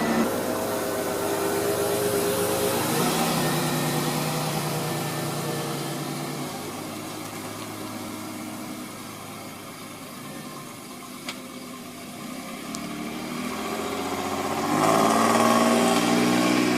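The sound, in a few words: restored barn find classic car engine on test drive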